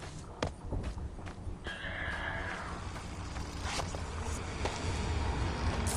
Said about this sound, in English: that creaking, that's the sound of the front door opening